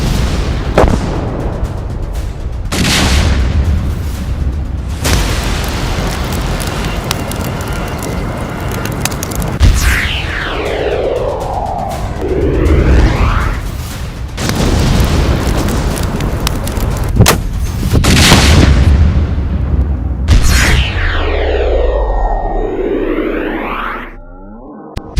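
Footage of a bomb blast plays a series of heavy booming explosions, several loud separate bursts with rumbling low tails that fade into long whooshing after-echoes.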